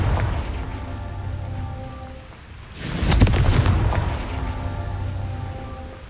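A Confringo fire spell explodes in the Hogwarts Legacy video game, a single loud burst and rumbling boom about midway through, set against a steady rain-like ambient hiss.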